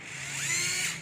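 A cordless battery power drill runs briefly, its high whine rising and falling in pitch as the motor speeds up and slows, loud and close.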